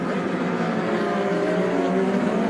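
IndyCar race cars battling at the St. Petersburg street circuit, with a loud, sustained high-revving engine whine as cars accelerate, steady and close throughout.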